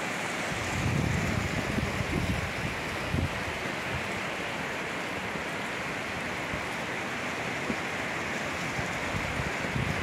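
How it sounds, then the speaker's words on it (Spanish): Water cascading at the Río Mundo falls near Riópar, a continuous broad roaring rush that stays steady and full throughout, with no speech over it. "Ay, qué chorrillo de agua cae."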